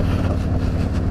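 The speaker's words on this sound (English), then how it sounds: "It's real cool to hear my exhaust pipes coming through between these buildings" A motorcycle's exhaust rumbles steadily and loudly, a deep continuous drone with wind buffeting the microphone as the bike rides between buildings.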